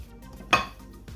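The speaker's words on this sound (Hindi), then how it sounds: "फिर हम इसको अच्छे से सारे मसाले को मिक्स कर लेंगे" Spices and chopped coriander mixed into a potato filling in a bowl, quiet handling sounds with one sharp clink of a spoon against the bowl midway.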